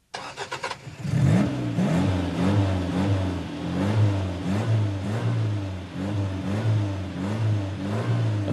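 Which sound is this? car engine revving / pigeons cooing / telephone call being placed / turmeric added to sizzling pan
car engine revving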